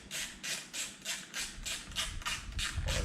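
A T10 Torx driver snugs up the screws on a WindRestrictor wind screen in a C5 Corvette convertible, giving about ten quick, evenly spaced ratcheting clicks, close and fairly quiet, with no talk.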